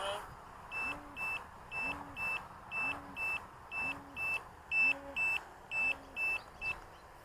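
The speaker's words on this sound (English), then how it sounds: "So that's the 7-minute timer going off there." A 7-minute flight timer on a radio-control transmitter for a Quanum Venture quadcopter, sounding as a regular series of short, sharp electronic beeps, about a dozen evenly spaced pulses heard up close with faint background noise.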